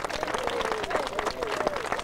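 An audience claps in a round of applause at a dedication ceremony, a brief burst of dense clapping with a voice heard over it.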